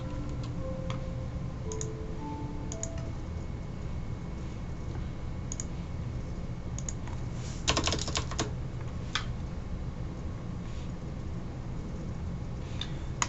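Keys clatter on a computer keyboard in quick, uneven bursts, close and fairly quiet over a faint steady hum, with a short denser flurry of presses partway through.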